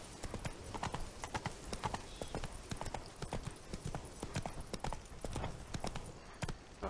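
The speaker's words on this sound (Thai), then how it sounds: "แรกๆผมไม่ค่อยขี่ม้านะแต่เดี๋ยวนี้ขี่ม้าไปเกือบทุกที่อ่ะ" Rhythmic clip-clop of a horse's hooves while riding in The Witcher 3: Wild Hunt, a brisk, even trot of sharp hoofbeats, close and steady throughout with no talk.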